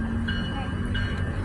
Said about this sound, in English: The train's gonna be coming.